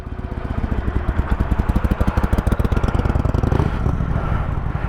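A motorcycle engine gets throttle on a hill, a close, loud, pulsing chug whose rapid firing beats quicken and even out over a few seconds.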